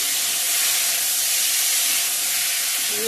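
Tomatoes dropped into hot oil for a masoor dal with drumsticks, a loud, steady broadband sizzle that holds evenly without a break from start to finish.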